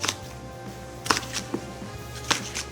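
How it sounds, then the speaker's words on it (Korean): Red chili peppers chopped finely with a knife on a cutting board for radish kimchi, a few sparse, crisp knocks spaced roughly a second apart, close by and moderately loud against quiet room tone. "홍고추 5개 준비해 주시고요. 갈 거기 때문에 잘게 썰어서 준비해 주세요."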